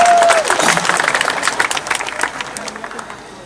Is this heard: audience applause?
yes